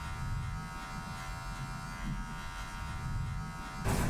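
A Wahl hair clipper buzzes steadily while tapering a beard, a close, low electric drone with a faint texture of cutting throughout, a brief louder burst at the very end, no talk.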